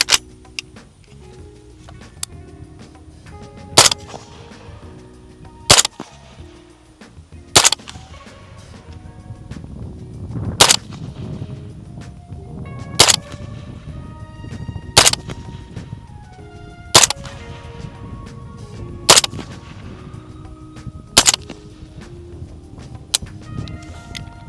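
A PSA JAKL rifle fires ten rounds of mixed ammunition, each a sharp, loud crack with a ringing tail, spaced a couple of seconds apart over low background rumble.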